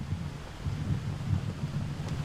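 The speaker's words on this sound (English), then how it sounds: "it's windy, it's overcast today" Wind gusts over the microphone on an overcast day outdoors during the Walk for Wallace 2005 in Scotland, a faint, continuous low rumble with no voices.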